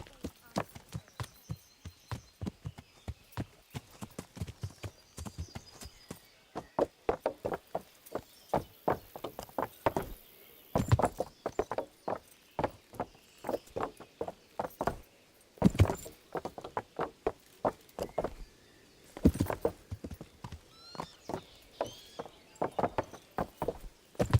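Rapid hooves of a ridden horse in Kingdom Come: Deliverance, the medieval role-playing game, drumming in a long, continuous run of close, sharp strikes, with bits of voices now and then.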